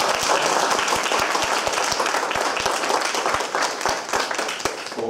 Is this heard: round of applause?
yes